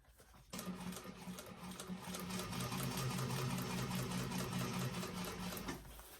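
A sewing machine runs a steady, continuous straight seam on a vintage expandable tote, its rapid stitching loud and close for several seconds after a brief pause.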